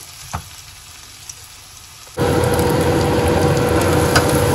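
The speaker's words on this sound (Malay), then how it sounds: "Masaklah sehingga bawang ni layu." Onions hit hot oil in a pan for sambal goreng, a quiet room suddenly giving way to a loud, steady, close sizzle that continues without pause to the end, with no voices.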